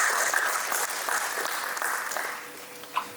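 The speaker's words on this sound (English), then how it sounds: "Let's together clap for all those who have contributed to this event to happen" A conference audience applauds the event's contributors with a steady wash of clapping that slowly fades toward the end.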